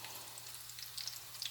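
Onions fry in a pan for ground beef with peas pilaf, a faint, steady crackle and sizzle heard alone with soft pops.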